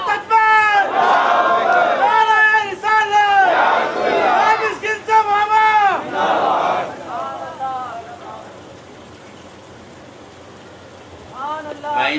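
A crowd at an Urs gathering chants the religious slogan Nara-e-Takbeer in loud, rhythmic unison, with sustained voices repeating in waves and fading toward the end before rising again.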